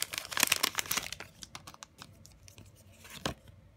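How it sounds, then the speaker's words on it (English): A Pokemon card pack crinkles and tears as it is pulled open, with loud crisp foil rustling at first, then softer scattered crackles and one final rip, close up with no talking. "This pack doesn't want to open."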